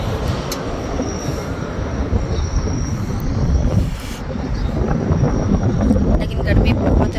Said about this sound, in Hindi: हवा भी चल रही है, लेकिन गर्म हवा चल रही है।